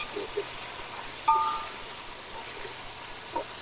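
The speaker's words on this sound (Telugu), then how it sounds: "అల్లం బాగా వేగిన తర్వాత బాగా ఆగాలి అల్లం" Ginger and green chillies sizzling in oil in a pan, a steady soft hiss with occasional faint clinks, fairly quiet and continuous with no talking.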